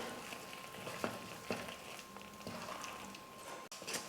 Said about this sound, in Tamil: இப்போ எல்லாத்தையும் சேர்த்து நல்லா கலந்து கொடுத்துக்கலாம்.